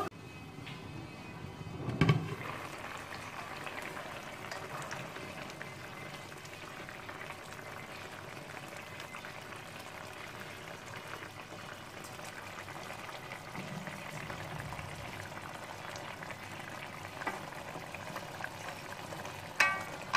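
Hilsa fish with taro stems simmering under a lid in a covered pot, giving a steady low bubbling and hiss throughout with a couple of brief knocks, and no one speaking.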